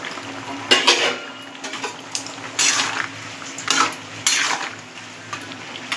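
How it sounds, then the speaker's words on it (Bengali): Fried lentil fritters tipped into a pot of vegetable curry and stirred, with repeated clattering scrapes of a metal spoon against the pan in irregular bursts, close and fairly loud. "এতে যে বড়াগুলো ভেজেছি বড়াগুলো আমি এর মধ্যে দিয়ে দেবো।"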